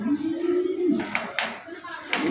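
Fancy racer pigeons at a pigeon farm give a low, drawn-out coo, followed by a few short sharp sounds, with people talking nearby.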